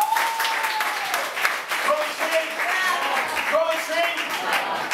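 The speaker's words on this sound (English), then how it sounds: "Big round of applause for Poetry Love." Audience applause at a poetry event fills the clip, steady dense clapping throughout, with crowd voices and shouts over it.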